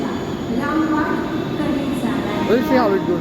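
Steady rumble of a metro train in motion heard from inside a carriage, with faint squealing tones over the running noise while someone talks throughout.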